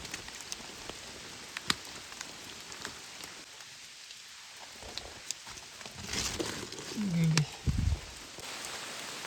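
Heavy rain falls on a forest campsite, a steady broadband hiss with scattered drop impacts, briefly swelling louder near the end alongside a short low tonal sound.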